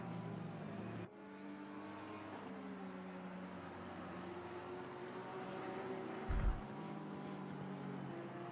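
GT3 race cars pass through turn 10 at Barcelona in Assetto Corsa Competizione, a sustained engine drone with shifting harmonic tones as the cars accelerate, fairly faint, with a sharp click and a brief low thump partway through.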